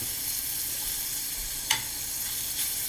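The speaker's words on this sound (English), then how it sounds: "When the shrimps are cooking" Shrimp frying in a pan for cauliflower shrimp with rice, giving a steady, even sizzle throughout with one brief sharp clink near the middle and no voices.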